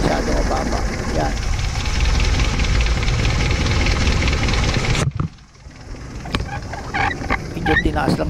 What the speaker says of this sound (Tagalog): adjust natin ng konti yung carburetor, yung idle natin, taas natin ng konti para hindi masyado mababa.